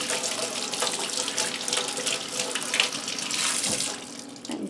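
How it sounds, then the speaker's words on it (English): Hot water runs steadily from a tap with splashing as a makeup brush is rinsed beneath it, close by. "And I'll rinse it in hot water."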